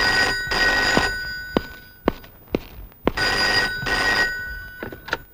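An old-style telephone bell rings loudly in a Telugu movie scene. Two long, close trilling bursts are separated by a short gap, with brief knocks in between.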